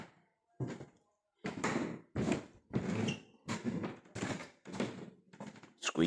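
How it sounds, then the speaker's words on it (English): Squeaky old wooden floorboards in the historic Bramall Hall, walked over in a series of separate thumping, creaking steps, each a distinct loud burst close by with short pauses between. "Can you hear the squeaky floorboards there?"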